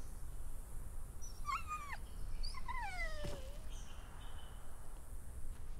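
A dog in a video game scene gives a few whimpering, whining cries, rising and falling. Faint and fairly close over a low rumbling ambient bed.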